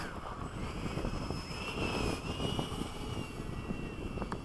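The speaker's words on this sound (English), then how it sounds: "I like the way the F-4 takes off." An F-4 jet takes off on a runway alongside an F-104 and Hawk at Bayside, a steady broadband jet roar with a faint rising whine, heard at moderate distance.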